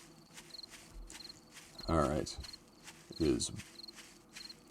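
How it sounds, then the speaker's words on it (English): Crickets chirping at dusk in the video game Besieged, a steady run of short, high repeated chirps in the background while someone talks. "I've got crickets, so night is going to be falling relatively soon."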